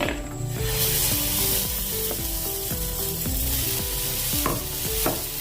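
Moong dal and raw rice batter with sesame seeds, mustard seeds and curry leaves sizzles steadily in an oiled pan, a continuous close frying hiss with light stirring and scraping, alongside a faint tonal background.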